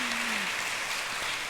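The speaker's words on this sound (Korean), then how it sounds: "우리 박수 한 번 더 힘차게" A congregation claps during a Wednesday morning women's worship service at a church, a soft, even patter of applause that stays faint and steady without breaks.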